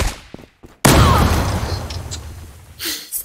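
A few faint clicks, then a sudden loud explosion with a long, rumbling decay, and another burst of noise near the end.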